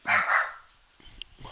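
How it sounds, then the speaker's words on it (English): Dog barking indoors, two sharp close barks in quick succession followed by fainter scuffling and a brief voice. "Stupid dog."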